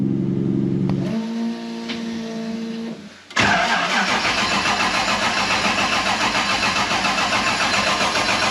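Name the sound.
Nissan S13 car running on E85 starting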